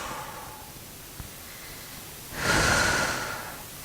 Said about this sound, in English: So inhale, exhale.